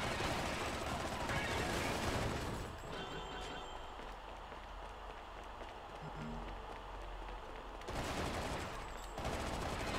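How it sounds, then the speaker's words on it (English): Gunfire in the video game Bayonetta comes as dense, rapid bursts that blur into a continuous roar, easing into a quieter stretch before the heavy shooting returns near the end. "Haven't you ever heard gunshots while coming from invisible angles?"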